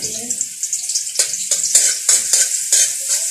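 Garlic sizzles steadily in hot oil in a pan for a Filipino-style ground pork dish, a bright continuous crackle broken by several rhythmic scraping stirs.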